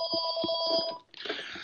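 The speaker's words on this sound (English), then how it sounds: "I apologize for the phone ringing in the background." A telephone rings in the background with a robocall: two-tone electronic bursts repeating steadily for about a second, then a brief pause before another burst of ringing begins, with no talking over it.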